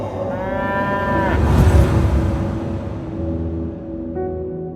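A deep, drawn-out lowing call from a water buffalo, loud and close, rising then fading, followed by a shorter second moo.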